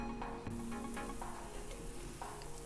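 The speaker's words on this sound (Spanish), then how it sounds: "Luego vamos a dejar aquí que se siga friendo hasta que se cocine el otro lado." A tuna omelette fries in a pan with a soft steady sizzle, occasional light scrapes and clinks of a utensil in a kitchen.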